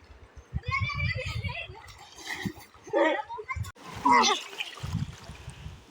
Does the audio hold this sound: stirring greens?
no